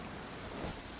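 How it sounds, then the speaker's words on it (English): Rain and thunder in the Genshin Impact video game, steady, dense rain hiss with a low rumble of thunder swelling midway, faint and alone without talk. "It's now raining."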